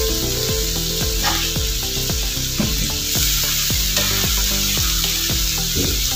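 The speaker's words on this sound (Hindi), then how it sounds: "अब एक तरह से मैं इसकी भुनाई कर रही हूँ फिश की।" Fish pieces for a masala fish dish fry and are roasted in a pan over medium heat, giving a steady loud sizzle with repeated scraping and stirring strokes and no talking.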